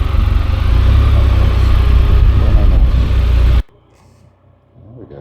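A Can-Am Spyder three-wheel motorcycle engine runs loud and close with a steady throbbing drone, then cuts off abruptly partway through, leaving near silence and faint background noise.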